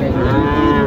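A cow at the Mataji cattle market gives a single loud, close moo that fills the whole short moment, with no talk over it.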